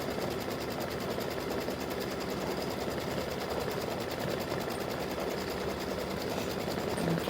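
An embroidery machine quilting the side panels of a mug rug whirs in a steady, fast, continuous mechanical hum with a rapid needle rhythm, close and unbroken throughout.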